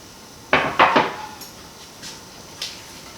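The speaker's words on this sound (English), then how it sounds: "Okay, so we just stir this together." Pecans being stirred into vegan banana bread batter in a bowl, a few close scraping clinks of a utensil against the bowl, then softer scattered taps.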